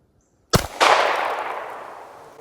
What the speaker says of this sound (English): See if I can still shoot it.